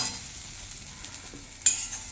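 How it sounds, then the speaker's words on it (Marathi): Sabudana khichdi being stirred in a pan over medium heat, a soft continuous scraping and light sizzle with one sharper clink of the spoon near the end, no voices. "मिक्स केली अशी हलवायची."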